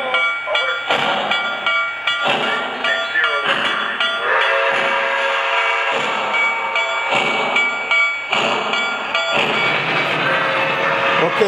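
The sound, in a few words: NYC Niagara steam locomotive chuffing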